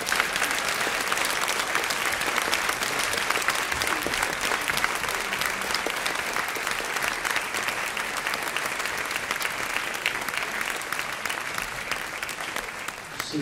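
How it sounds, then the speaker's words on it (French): An audience applauds steadily for several seconds, sustained clapping from many hands in a room, slightly softer as it continues. "J'aimerais qu'on applaudisse tout ça"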